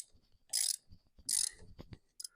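Ratchet loosening motorcycle handlebar riser bolts: two crisp bursts of fast ratchet clicking, then softer metallic clunks and a final short click sequence, close and fairly quiet.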